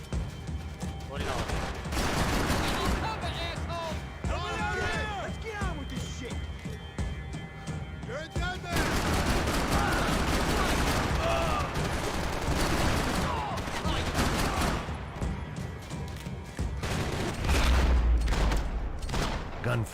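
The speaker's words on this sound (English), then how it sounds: "Gunfire over Hoboken." Loud, dense bursts of rapid Max Payne 3 gunfire and crashing impacts fill the whole stretch, with a voice talking underneath and a heavy thump near the end.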